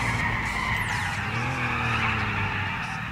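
A car in Grand Theft Auto 4 skids and slides, its tires squealing in long wavering screeches over a droning engine, loud and continuous.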